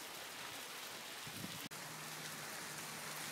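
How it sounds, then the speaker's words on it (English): Hail falls outdoors during a windy snowstorm, a faint, steady hiss of pattering pellets with a single sharp tick partway through. "And it's still really hailing out here."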